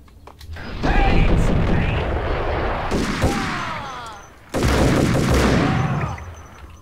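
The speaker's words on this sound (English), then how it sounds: "you can fire just semi-auto pretty well" Semi-automatic gunfire in the Max Payne video game sounds as loud, dense volleys of shots with echoing booms. It runs almost continuously, with a brief dip before a fresh burst of firing.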